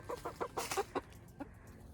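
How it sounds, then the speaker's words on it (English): Several backyard chickens, many of them Easter Egger hens, give a run of short, close clucks in quick bursts, then a single softer cluck after a pause, with a faint steady hum underneath. "Our chickens."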